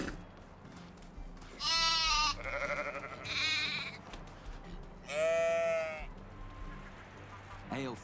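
Sheep in the medieval farming game Medieval Dynasty bleat three times in loud, wavering calls, with a quieter bleat near the end over a faint background hum.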